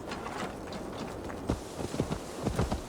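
A horse's hooves clip-clop at a walking pace in the video game Assassin's Creed Valhalla, rhythmic hoofbeats growing a little more pronounced toward the end, with no speech over them.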